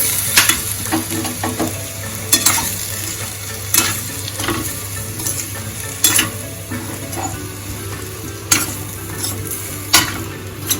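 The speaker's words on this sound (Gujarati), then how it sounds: "એક ટેબલ સ્પૂન ચટણી પાવડર એડ કરી દઈશું. મિક્સ કરી લઈશું." Fried potato sabzi, a fasting-style dry aloo dish, is stirred in a pan as chutney powder is mixed in, with a steady sizzle and repeated spoon scrapes against the pan, close and fairly loud, no voices.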